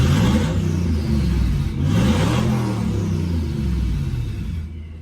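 Twin turbo V8 in a Ford Focus project car revving steadily for about five seconds, a loud, continuous rumbling engine note with a slight swell in the middle before it eases off at the end.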